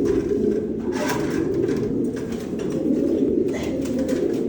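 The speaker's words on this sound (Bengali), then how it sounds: "ব্ল্যাক একটা নর কবুতর আসলে কবুতরে ধরতে যায়" Pigeons in a loft, among them a black male, coo close by in a continuous, low, rolling murmur, with soft overlapping calls filling the whole stretch and no speech.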